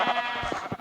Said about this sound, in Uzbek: Bu qo'ylar sakradiganda.